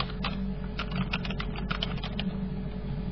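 Steady typing on a computer keyboard while entering a URL into a forum post, a quick run of light clicking keystrokes at close range with no talking.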